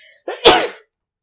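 A single sharp human sneeze, close and loud, with a short intake before the burst and then silence.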